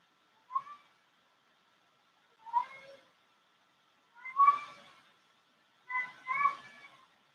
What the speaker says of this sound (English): He's a chatty catty.